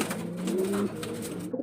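Racing pigeons coo nearby in soft, throaty bursts, a rolling low call repeated a few times before a brief pause, clear and close with no talking over it.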